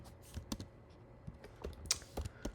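Close, quick keystrokes on a computer keyboard while writing code, irregular bursts of clicks with brief pauses, no talking.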